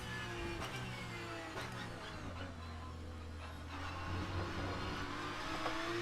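A Porsche 911 GT3 Cup 992 racing car in the rFactor 2 simulator, its engine droning steadily at high revs with shifting pitch and a brief rise near the end, continuous and close, with no talking.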